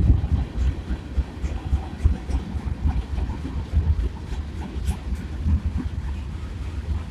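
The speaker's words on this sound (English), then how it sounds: "Got some tanker cars." Freight train with tanker cars rolling past, a steady low rumble with irregular clanks and rattles, fairly loud and close, with wind noise over it.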